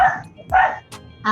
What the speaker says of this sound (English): That barking, very very energetic.